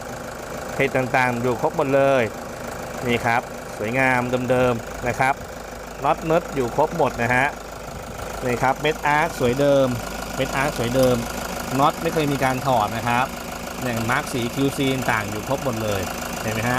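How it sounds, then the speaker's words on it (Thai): A 2015 Toyota Hiace 3.0 GL diesel van with a manual gearbox idles with a steady, mid-pitched clattering hum, heard close under continuous talking by a man throughout. "นี่คือเสียงเครื่องยนต์ชัด ๆ"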